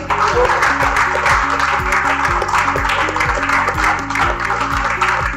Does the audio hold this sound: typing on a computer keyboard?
no